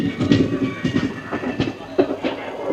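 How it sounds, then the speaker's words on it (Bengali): Tinpahar–Rajmahal train pulls away from platform 3 at Tinpahar Junction, its wheels beating out a quick, uneven clickety-clack over the rail joints. Engine rumble sits underneath, fairly close and steady. "তিন পাহাড় জংশনের 3 নম্বর প্ল্যাটফর্ম থেকে ট্রেনটি ছেড়ে গেল রাজমহলের পথে।"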